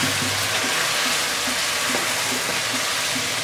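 Pigeon meat hitting fried spice paste in a pan gives a steady, close sizzle with repeated faint scraping and stirring beneath it, with no one talking.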